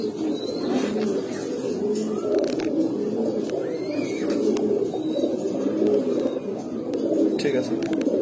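Pigeons in a loft where fancy breeds such as Baghdadi Homa and Grizzle are kept coo in low, repeated, throaty calls, with occasional higher chirps above them and a voice nearby.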